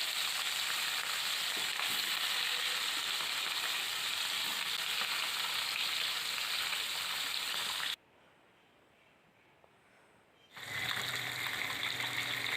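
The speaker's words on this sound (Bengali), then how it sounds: "তেল গরম হয়ে গেলে এক এক করে মাছগুলো কড়াইতে দিয়ে দিলাম ভাজবার জন্য।" Parshe fish frying one by one in hot oil in a wok hiss loudly and continuously up close. The sizzle cuts out briefly near the end, then returns just as strong.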